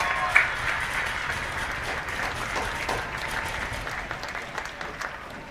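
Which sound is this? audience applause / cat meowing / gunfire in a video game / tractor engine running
audience applause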